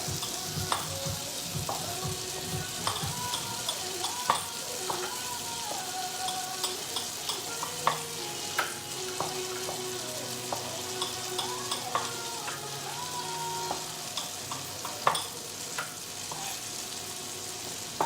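Garlic fries softly in a pan with a faint, constant sizzle. Irregular small clicks and taps of a utensil against the pan run through it. The sound is fairly quiet and there is no speech.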